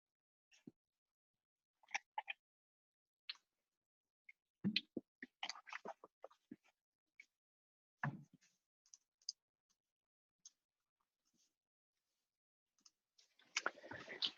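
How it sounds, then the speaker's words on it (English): Someone types on a computer keyboard in a classroom, quiet scattered clicks and short bursts of keystrokes separated by pauses, heard alone with no talk. "See Matt typing"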